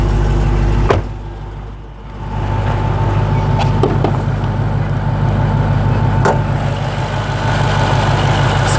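A 2018 Dodge Charger SRT Hellcat with its 6.2-liter supercharged Hemi V8 idles steadily with a deep, loud rumble, dipping briefly near the start before settling back into a constant drone, close by and with no talk.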